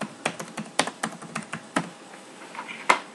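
Fingers type a card number on a computer keyboard, a quick uneven run of about a dozen close, crisp key clicks, alone without voices.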